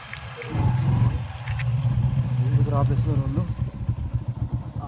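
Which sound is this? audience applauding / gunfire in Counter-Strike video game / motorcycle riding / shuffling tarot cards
motorcycle riding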